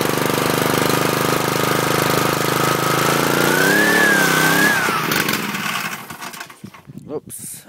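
A MI-T-M Chore Master 2600 PSI pressure washer's small gasoline engine runs loud and steady close by, then drops off and sputters toward the end.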